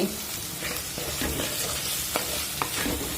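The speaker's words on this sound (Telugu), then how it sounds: "ఇప్పుడు దీన్ని మనం కలిపేసుకోవడం అండి ఇలాగా ఇలా కలుపుకుని" Curry of jackfruit seeds and dried moong dal vadiyalu, seasoned with rock-salt-made salt, stirred in a pot; a steady sizzling bed with scraping spoon strokes against the metal at irregular intervals, close and moderately loud, no voices.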